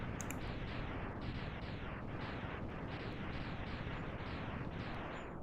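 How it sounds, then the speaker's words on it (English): A dense, continuous barrage of booming explosions in Mega Man X, Sigma Fortress stage, rolling one after another in quick succession, loud and unbroken throughout. "Nice fun explosions"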